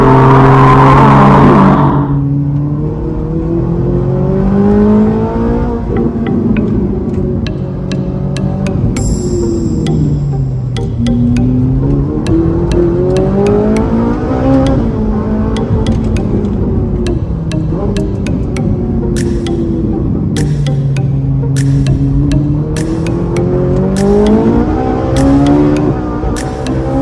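A Ferrari 458 Italia lapping a test track with all driving aids switched off, its engine loud and close, rising and falling through repeated revving sweeps and gear changes, with a brief high whine partway through.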